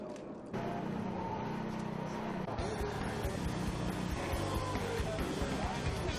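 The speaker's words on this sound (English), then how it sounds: "Cars again rolling around the racetrack" Race cars from the 2010 Lucas Oil Slick Mist 200 season opener circle a racetrack, their engines a steady, loud drone with shifting tones from start to finish, blended with broadcast-style background sound.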